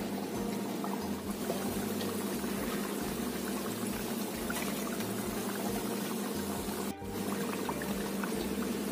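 Gorengan fritters deep-frying one by one in hot oil until crisp, giving a steady, loud, continuous sizzle with a low hum underneath and a brief dip near the end.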